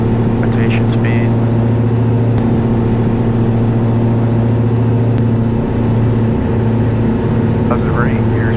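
Diamond DA62 twin-engine aircraft engines at takeoff power, a loud steady droning roar with strong low harmonics that holds through the whole stretch, with brief voices speaking over it.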